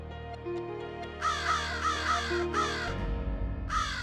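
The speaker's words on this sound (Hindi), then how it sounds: "अरे काव काव काहे कर रहे हो?" Crows give several loud, harsh caws in quick bursts, near and clear over a faint steady background hum.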